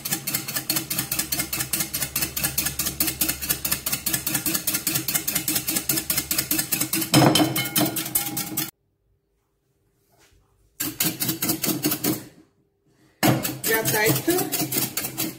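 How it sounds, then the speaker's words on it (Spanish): Egg whites whipped by hand with a whisk in a bowl, a fast, steady metallic clatter of rapid strokes that pauses briefly twice before resuming. "ahora la clara la voy a poner aquí y las voy a montar. Las voy a montar a mano."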